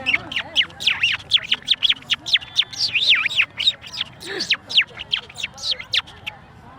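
A person mimics a house sparrow with rapid, high chirps, a dense run of short tweets repeated quickly and close to the microphone.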